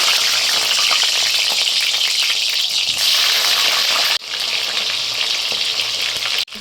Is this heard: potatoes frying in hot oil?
yes